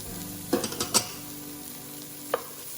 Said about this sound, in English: Let it sweat, saute it.